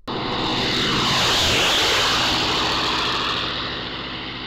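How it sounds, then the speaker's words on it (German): A propeller airplane passes overhead, its engine drone swelling to a peak near the middle and fading slowly as it moves away, loud and steady with no talk. "wenn das Flugzeug vorbeifliegt."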